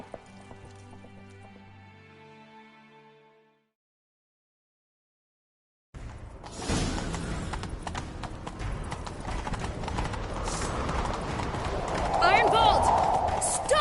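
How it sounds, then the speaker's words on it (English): Horses gallop in a video game with a steady clip-clop of hooves that starts loud after a short silence, following faint music, as a chase gets underway; a horse whinnies briefly near the end. "Grab a horse, we'll chase him down."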